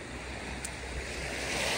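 Sea waves washing onto a beach at Pantai Batu Rakit, a steady broadband surf wash mixed with wind, moderately faint and continuous with no talk.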